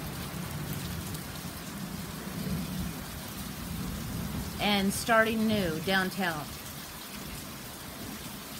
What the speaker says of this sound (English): The storm is here.